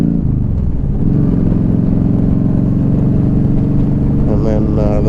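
A 2015 Yamaha V Star 1300 Deluxe cruiser with aftermarket exhaust rumbles steadily at close range, a deep throaty exhaust note holding a constant idle throughout.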